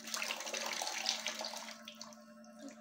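Water running and pouring into a tumbler, a steady close splashing flow that thins toward the end, with no talk.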